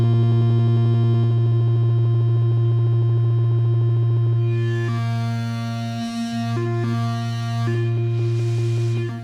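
Modulated synthesizer one-shots ring out as a loud, sustained harmonic tone with a deep steady drone, then brighter noisy swells that pulse in and out over the top.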